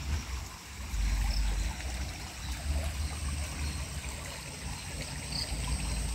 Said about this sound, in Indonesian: Ini sungai yang ada di bawah tadi seperti ini.